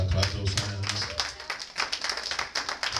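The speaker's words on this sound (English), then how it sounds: "Clap those hands." A church congregation claps hands at the close of a Mother's Day service, with a steady patter of many hands over ongoing talk and murmuring.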